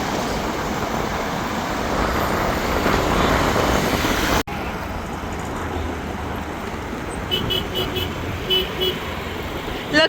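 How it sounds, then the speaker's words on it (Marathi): Busy evening road traffic rumbling steadily nearby, engines and tire noise blending into a constant roar, with a few short horn toots toward the end. "संध्याकाळीच निघालो होतो तर खूप ट्रॅफिक लागलं मध्येच"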